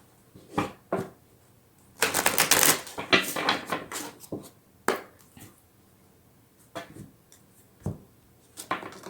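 Tarot cards are shuffled and handled in scattered bursts of papery flicks and riffles, a dense flurry near the middle and sparser taps and slaps around it, close and fairly quiet.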